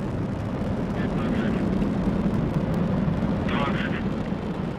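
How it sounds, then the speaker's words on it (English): Soyuz rocket lifting off with the 64th Progress resupply craft bound for the International Space Station, a steady, loud broadband rumble and roar with faint crackle throughout, continuous and distant-sounding. "Liftoff of the 64th Progress resupply craft bound for the International Space Station"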